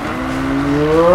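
Engine revs climb over a sustained tire squeal as a car drifts through a gymkhana-style run in Need for Speed 2015, loud and continuous with rising pitch.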